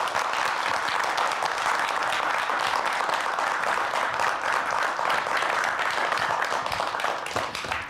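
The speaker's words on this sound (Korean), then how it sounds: "박수로 맞이해 주세요." Dense audience clapping welcoming a professor's lecture on a Korean broadcast stage, loud and continuous, tapering off at the very end.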